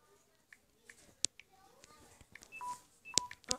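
Keypad tones from a phone being dialed, several short beeps spaced irregularly with a quick pair near the end, close and clear over faint background chatter and handling noise.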